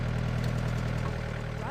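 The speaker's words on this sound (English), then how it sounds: "his crew is preparing for planting, using a tractor to lay down plastic to protect the strawberries" A tractor engine runs steadily while laying plastic mulch for strawberry planting in a foggy field, a low even drone under a narrator's voice.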